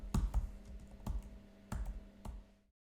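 Several crisp keystrokes clatter on a computer keyboard as a telephone number is typed in, close up and in short uneven bursts, with no talking.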